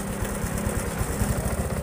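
A Honda Supra 125 fuel-injected motorcycle engine idles steadily after a reset, settling into a low, even putter with a fast regular pulse; the bike has been misfiring and coughing, and it runs alone without talk.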